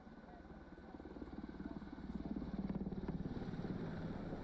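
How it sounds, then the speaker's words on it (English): Thudding rotor beats of helicopters overhead, a steady loud chop that swells and grows closer, with a deep engine rumble underneath. "Multiple helicopters."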